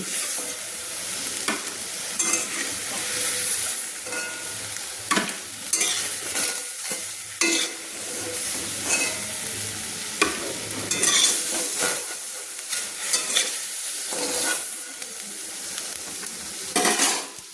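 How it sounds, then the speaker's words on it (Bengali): Katla fish pieces sizzle in hot oil in a pan while a spatula lifts them out one by one, with scraping and clinks of metal against the pan over steady frying crackle. "আমি একটা একটা করে খুন্তি দিয়ে মাছগুলো তুলে নিচ্ছি।"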